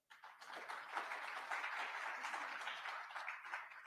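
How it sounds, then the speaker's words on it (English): An audience bursts into clapping at a gathering with a guest of honour, a steady, moderately dense round of applause that starts abruptly and continues at even strength, heard from a distance. "Clap your hands right there"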